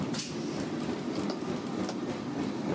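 An early 20th-century tram on line 75 rolls along its rails toward the Pont de Neuilly, giving a steady, close rumble with faint rhythmic clicks and no talk.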